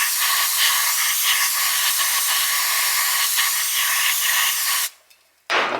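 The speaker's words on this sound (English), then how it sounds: "I'm just going to spray it out" A loud, steady hiss of aerosol spray blasts for several seconds into a seized VintageAir air/heat blower motor, then cuts off abruptly, followed by a brief burst of noise.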